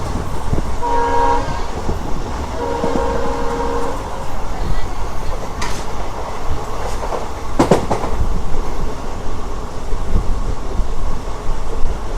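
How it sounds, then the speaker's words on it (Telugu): A passenger train between Rameswaram and Mandapam runs at around 70 toward the Pamban railway bridge with a continuous heavy rumble, its horn sounding twice early on amid a couple of sharp clanks. "ట్రైన్ అయితే మొత్తం ఒక రేంజ్లో అయితే లాగుతున్నాడు"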